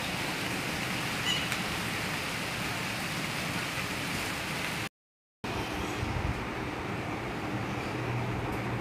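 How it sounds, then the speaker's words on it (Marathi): Light drizzling rain falls as a soft, even hiss that runs steadily, with a short dropout midway and no talking. "वा, मस्त रिमझिम पाऊस पडत आहे।"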